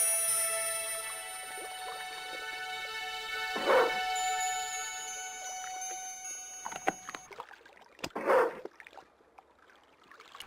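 A dog barks in the video game Broken Sword: The Smoking Mirrors at the docks, two sharp, loud barks a few seconds apart over a sustained synthetic tone, followed by faint clicks and splashes.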